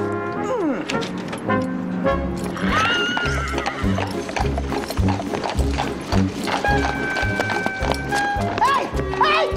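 A horse whinnies loudly more than once while its hooves clip-clop at a run, with street or traffic noise behind, all in a film scene.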